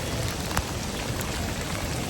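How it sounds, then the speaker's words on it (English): Heavy rain falls outdoors in cold weather, a thick, even roar of drops close by and loud, with a few sharper drips standing out and no talking. "By God, look at all this rain."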